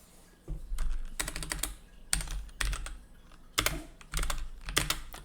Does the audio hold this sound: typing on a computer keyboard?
yes